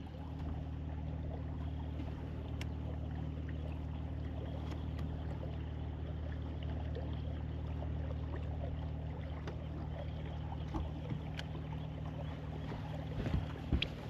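Fishing boat motoring along a rocky river bank, a steady low engine drone with water wash running continuously and evenly throughout, with no talk.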